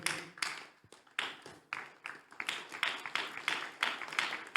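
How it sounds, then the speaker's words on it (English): Conference audience applauding sponsors at a closing session, with steady clapping from a crowd in a room that swells and fades in rhythmic waves, with no voices over it. "you can keep clapping"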